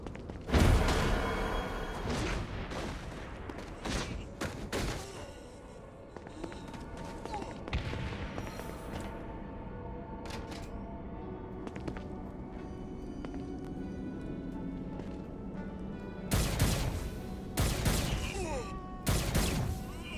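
Gunfire in the video game Saints Row: Gat out of Hell, loud bursts of shots at the start and again near the end, with crashes and impacts set against steady game music and effects.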